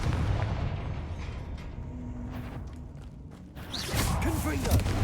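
A Confringo spell explosion in Hogwarts Legacy during Niamh Fitzgerald's trial, a heavy rumbling boom at the start fading into a low roar, followed by further muffled impacts and a renewed burst near the end.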